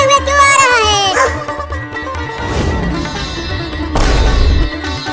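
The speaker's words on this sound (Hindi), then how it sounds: "अरे बाप रे, वो कुत्ता मेरी तरफ दौड़ते हुए क्यों आ रहा है?" A cartoon dog barks while running toward someone: a series of rhythmic, close barks and yips, mixed with music and a busy, loud soundtrack.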